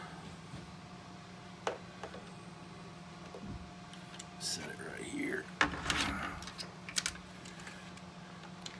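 A Commodore 64 keyboard lifted out of the computer case and set down, with a brief knock, then close rattling, clicking and thumping handling sounds, and a voice speaking briefly.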